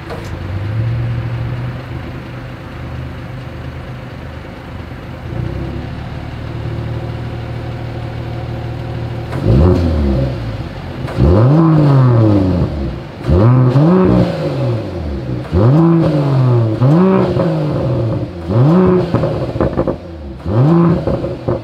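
A 2021 Mercedes-AMG GLE Coupe with the AMG performance exhaust idles steadily, then fires up into a series of loud, sharp exhaust revs that rise and fall in a repeated rhythm.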